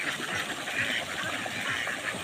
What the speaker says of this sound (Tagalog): So ito na ang mga alagang itik natin mga kadakers.